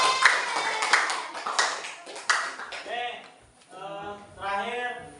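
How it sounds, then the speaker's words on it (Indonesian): Students in a high school classroom clap briefly for a classmate, a short burst of scattered hand claps that fades as a teacher's voice takes over. "Tepuk tangan dulu untuk Rasida ya."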